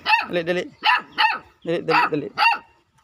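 A dog barks repeatedly up close, a run of sharp, loud barks in two quick bursts with brief gaps between them.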